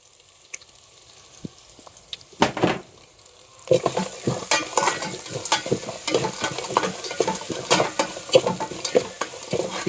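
Ground garlic and cumin paste hits a hot frying pan with a burst of sizzling after a short quiet stretch, then steady crackling frying with repeated stirring scrapes close by.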